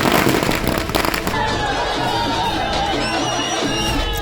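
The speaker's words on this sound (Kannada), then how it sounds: "ಮೈತ್ರಿ ಕಾರ್ಯಕರ್ತರು ಪಟಾಕಿ ಸಿಡಿಸಿ ಸಂಭ್ರಮಾಚರಣೆ ಮಾಡಿದ್ದಾರೆ" Firecrackers bursting at a BJP and JD(S) alliance workers' celebration of a Lok Sabha 2024 election victory, dense crackling bangs up front giving way to a sustained noisy roar with crowd chatter throughout.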